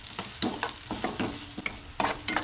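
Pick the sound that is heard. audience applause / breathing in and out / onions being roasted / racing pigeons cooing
onions being roasted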